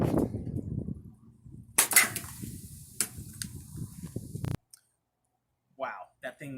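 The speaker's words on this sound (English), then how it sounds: "that thing exploded so much more violently than I expected" A glass bottle of IBC root beer bursting, a sharp crack followed by fizzing, spraying and splashing liquid, then a sudden cut to near silence and a few brief voiced sounds.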